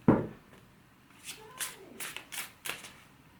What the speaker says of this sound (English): Let's just pull a couple of cards.